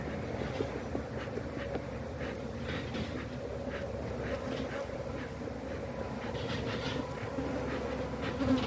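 Agitated honey bees from a defensive hive buzz loudly and continuously around a beekeeper, a dense steady drone with individual insects whining close by throughout.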